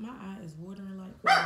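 A pet dog at home gives a sharp, loud bark right at the end, cutting across someone talking close by.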